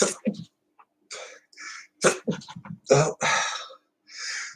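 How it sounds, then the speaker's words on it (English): A person sneezes amid short bursts of breathy, throat-clearing sounds, with a brief spoken exclamation before it; close and fairly quiet. "I think I gotta sneeze."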